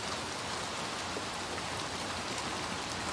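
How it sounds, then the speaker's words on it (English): Steady, dense rain pours down in the video game Little Nightmares 2, a constant hiss of drops filling the scene at even loudness throughout. "It's not like the rain is going to make it any better though"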